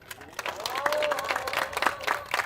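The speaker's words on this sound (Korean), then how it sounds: "자, 우리 이명호 동지에게 다시 한번 박수 주십시오" At an evening cultural rally of striking construction workers outside Sangnoksu station, a crowd breaks into brisk applause, with a voice calling out over the clapping.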